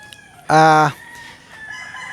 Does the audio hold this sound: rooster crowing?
yes